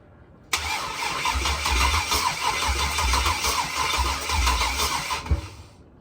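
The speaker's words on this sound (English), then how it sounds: "Let's go ahead and give it that crank." A 6.0 LS swapped engine cranks loudly for several seconds with a pulsing, rhythmic starter churn, then stops without catching.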